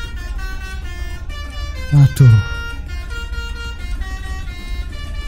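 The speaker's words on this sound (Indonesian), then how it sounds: "Klakson dulu guys." A Hino SR3 XHD bus horn in Euro Truck Simulator 2 sounds in two loud, short honks in quick succession, heard over game engine rumble and background music, with someone speaking briefly.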